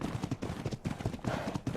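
Horse hooves clip-clopping in the video game ARK Ragnarok, a steady rhythmic trot of repeated thuds running throughout, fairly close and alone without talk.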